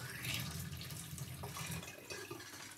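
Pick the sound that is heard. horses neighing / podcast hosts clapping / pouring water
pouring water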